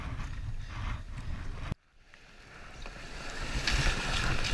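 Heavy floodwater of the Woronora River at Heathcote, NSW, swollen by an inflowing creek, roars past as a steady broadband rush that cuts out briefly and then builds louder again.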